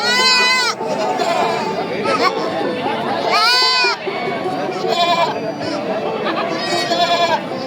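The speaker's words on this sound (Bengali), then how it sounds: "এখানে একটা ছাগলের বাচ্চা" A baby goat bleats at the Paragram livestock market, giving several loud, close, wavering cries over the murmur of a chattering crowd.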